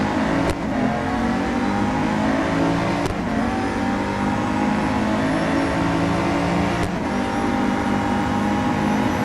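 Chevrolet Camaro GR4.R racing on a track in the video game Real Racing 3, a loud steady engine roar with rising revs and a few sharp gear-shift breaks, no talking.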